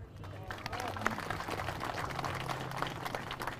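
An audience at an Islamic lecture applauds, a dense and continuous wash of clapping at moderate level, with voices mixed in beneath it.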